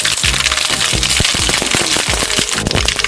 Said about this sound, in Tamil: ஆயில் காஞ்சிருச்சு, கடுகு போட்டுக்கலாம். கடுகு பொரிஞ்சிருச்சு